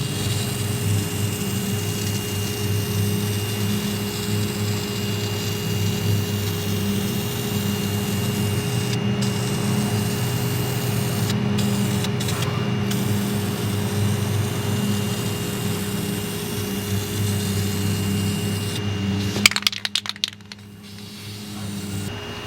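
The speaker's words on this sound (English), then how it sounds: "Just got done spraying what I'm going to be able to get to spray today." Spray painting a Ford Model A frame: a loud, continuous hiss of a spray gun with a steady droning compressor hum, running unbroken for about twenty seconds before cutting off with a few clunks.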